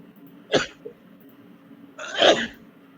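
Two sharp sneezes, the first short and the second louder and more drawn out about a second and a half later, close to the microphone in a quiet room during a tabletop role-playing session.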